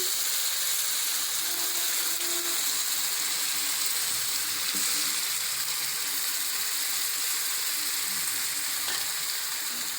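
Loud, continuous sizzling of chicken frying in hot oil with an onion tempering, a dense crackling hiss that stays steady throughout.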